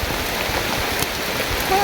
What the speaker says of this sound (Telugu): మీరు కూడా చూసారు కదా బయట ఎంత వర్షం పడుతుంది అనేది.